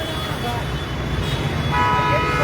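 Busy traffic jam at Sardar Chowk junction in Jetpur, with steady road noise from idling vehicles, a few car horn toots, and voices in the background.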